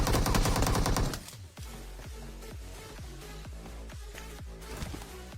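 PUBG Mobile gunfire: a loud burst at the start, then a steady rapid sequence of distinct automatic shots, each with a sharp crack and short decaying tail, fairly close and without talk.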